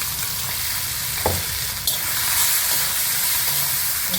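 Kharda, a coarse spice paste, hits roasted peanuts in a hot pan and fries with a steady close sizzle and hiss, with a few scrape and stir knocks against the pan.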